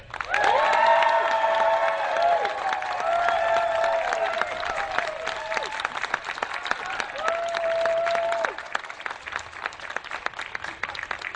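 A debate crowd bursts into loud applause with scattered cheers and whistles, then the clapping thins out into fewer, sparser claps.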